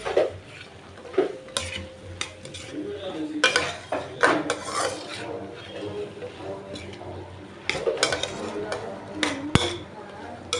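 A pot of sambar with chunky green brinjal is stirred and mixed, giving uneven scrapes and clinks of a spoon against the pot over a low simmer, with a voice speaking intermittently nearby.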